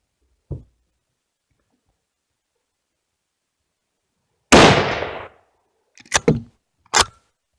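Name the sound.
large gun being fired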